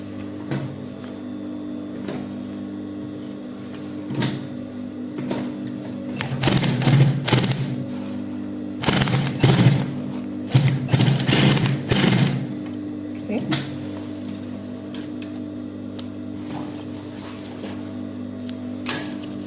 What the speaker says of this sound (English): Then we'll sew a straight line so that that place will be flat